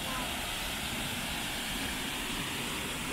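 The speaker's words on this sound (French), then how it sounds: "Et la quantité d'eau là qui tombe, c'est impressionnant." Water crashing down a cascade, heard close up as a loud, constant broadband roar with no breaks, filling the whole clip.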